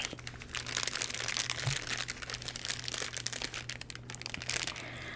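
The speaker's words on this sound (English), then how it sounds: "I have some nice crinkly paper" Crinkly paper being crumpled and handled close up in a quiet setting, giving a continuous dense crackle with bursts of sharper rustling throughout, no voice present.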